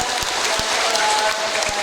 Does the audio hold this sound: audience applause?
yes